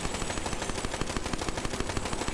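Rapid gunfire from a shooter in Tiny Tina's Wonderlands, a steady stream of loud, closely spaced shots running the whole time over a dense game soundtrack.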